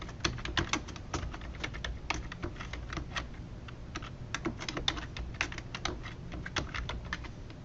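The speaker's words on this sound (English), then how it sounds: "As soon as the form pops up, I'm going to start typing the title bar." Steady typing on a computer keyboard at close range, a continuous run of quick key clicks with uneven rhythm and no talking.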